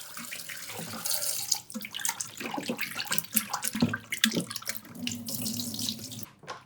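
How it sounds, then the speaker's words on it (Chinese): Tap water runs steadily into a basin as fresh supermarket pork ribs are rinsed by hand, a continuous close splashing and gushing with small knocks and sloshes throughout, no talking. "我们把它倒在盆中，先给它冲洗，把杂质冲掉，然后再做处理。"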